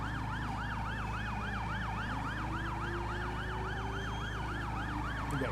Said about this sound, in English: Now you get to hear all the different sirens.